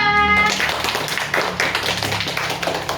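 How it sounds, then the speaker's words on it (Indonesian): A primary-school classroom of sixth graders applauds a group after its presentation, producing a steady, dense patter of many small hands clapping at once, after a brief musical chime at the start. "Kita berikan aplaus untuk kelompok 2"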